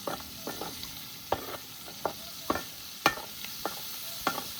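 Pieces of liver fry in oil in a pan on a farm, a steady quiet sizzle broken by a series of sharp spoon scrapes and taps that come every half second or so.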